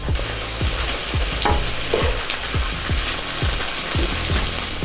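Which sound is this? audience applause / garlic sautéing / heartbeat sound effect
garlic sautéing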